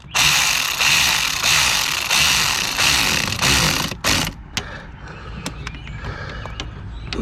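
Tool tightening the expansion valve bolts on a 2012 VW Jetta 2.5, a loud pulsing mechanical whir for about four seconds, then sharp clicks and small metallic taps.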